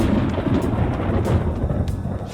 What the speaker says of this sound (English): Whoa. It sounds like it's going to rain.